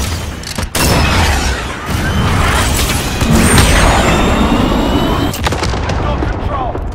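Loud, sustained battlefield roar of a missile strike and explosions in Call of Duty: Modern Warfare, with rolling booms and dense artillery-like rumble lasting several seconds, continuous and close.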